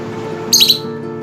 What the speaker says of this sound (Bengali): এদের সবচেয়ে উল্লেখযোগ্য আচরণটি হলো উচ্চস্বরে চিল্লাচিল্লি করা